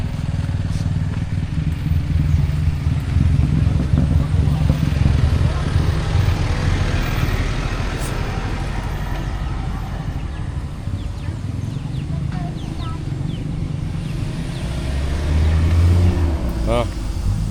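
A motor vehicle passes along a rural road in Dolores, Quezon, its low engine rumble and road noise rising and falling over several seconds, with chatter from people walking at the roadside.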